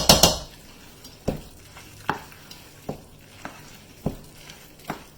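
Pasta being mixed with added ingredients in a pot, a utensil scraping and knocking against the pot in a steady series of sharp clacks roughly every second, close and clear after an initial louder clatter.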